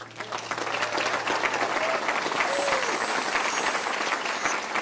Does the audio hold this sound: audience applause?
yes